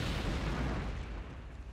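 A muffled explosion in the video game Outward booms and fades, a single broad low rumble heard faintly and alone.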